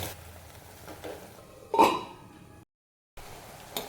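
A spoon stirring bitter gourd stir-fry in a clay pot gives soft scraping and a brief clatter, with a short louder scrape midway and a gap of silence near the end.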